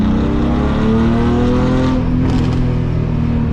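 A BMW E46 with an M52 engine and test headers idles and revs through a loud, raspy exhaust, a steady close droning rumble with rising pitch sweeps and a brief pop near the end, no talking.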